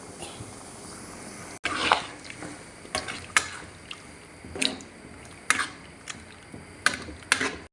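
Chicken pasta sauce bubbles gently in a pan, soft wet pops and squishy blips at an irregular pace over a steady low hiss, close and moderate in loudness.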